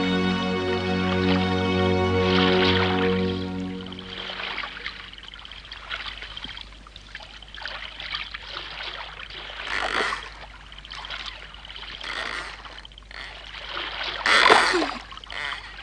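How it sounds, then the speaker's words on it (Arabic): Water gurgles and splashes inside a small boat on a canal as it leaks in, an uneven trickling and sloshing with louder splashes toward the end, heard close over a background of music. "الماء يتسرب من هنا حاول أن تمنعه"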